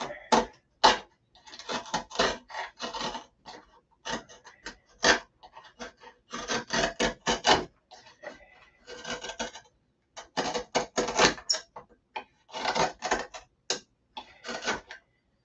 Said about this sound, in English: Yeah, gonna have to grind it.